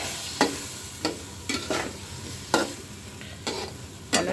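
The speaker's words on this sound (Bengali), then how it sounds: "টমেটোগুলো দিয়ে ভালোভাবে কষিয়ে নিচ্ছি।" Tomatoes are stirred and fried in a pan, with a spatula scraping in sharp strokes every half second or so over a soft, steady sizzle close by.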